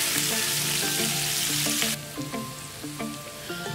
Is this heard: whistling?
no